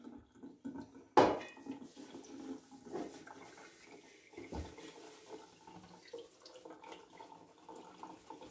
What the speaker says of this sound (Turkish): Ve süzgecimin içine bunu da dökeyim.